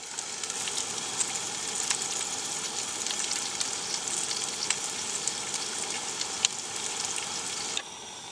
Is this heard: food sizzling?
yes